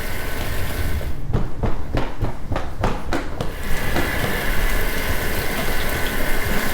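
Water gushing loudly from an indoor leak, a constant heavy rush broken briefly by a series of sharp thuds or clunks before the steady flow resumes.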